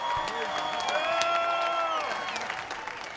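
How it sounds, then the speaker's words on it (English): Bare-knuckle fight crowd claps and cheers steadily across the arena, a broad wash of applause with whoops rising over it, fairly distant and even throughout. "let's have a round of applause for these 2 warriors."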